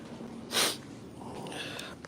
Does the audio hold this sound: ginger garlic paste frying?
no